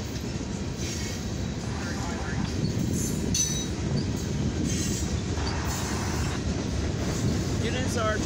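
A steady, heavy rumble of a mixed freight and grain train rolling past, with rattling cars, faint wheel squeals and clanks, continuous and fairly close throughout.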